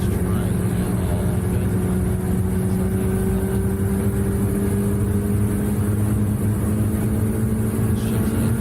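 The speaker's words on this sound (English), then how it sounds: "listen to this thing. It doesn't even sound like it's trying at all." Sports car engine with a manual robotic transmission, holding a steady low, even drone with a faint tonal whine, loud and close throughout, no shifts or revving.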